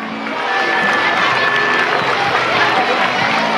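A school singing-festival audience in Pineda de Mar breaks into applause for the sound technicians. The clapping swells after a brief quieter start into a loud, sustained patter of many hands with cheering mixed in.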